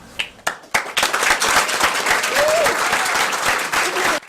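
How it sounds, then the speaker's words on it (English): An indoor crowd claps after a mayor signs gun legislation into law, beginning with a few scattered claps and swelling into sustained, fairly loud applause that stops abruptly. "Claps and hugs after Mayor Bill Peduto put his name on each of these bills"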